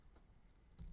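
Typing on a computer keyboard, a brief burst of quiet key presses with a couple of sharper taps near the end, no voices.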